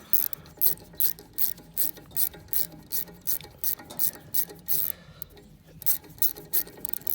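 A 13 mm wrench ratchets in quick, regular clicking bursts while loosening a tooth on a stump grinder, close and fairly quiet, with a brief pause midway.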